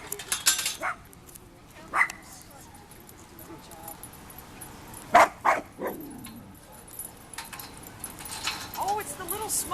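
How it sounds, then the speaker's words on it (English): Small dogs bark and yip at a dog park, with short sharp bursts scattered across the clip, a clustered flurry near the middle, and keys jangling amid nearby talk. "we're at the dog park"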